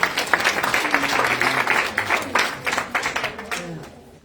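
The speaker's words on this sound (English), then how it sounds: "Let's give ourselves a round of applause." Audience applause in a room during a transformation-day event: steady, dense clapping from many hands with a few voices mixed in, fairly close and sustained, thinning out toward the end.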